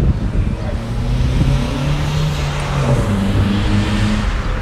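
Modified car engine heard from inside the vehicle, a steady droning rumble with tones that rise and shift as it accelerates through gears, loud and continuous with little talk.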